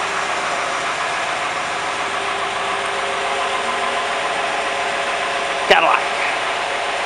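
An old Cadillac idles after a cold start, a steady, close, loud mechanical rumble with a rhythmic ticking chatter throughout and a brief sharp knock near the end, no clear talk over it.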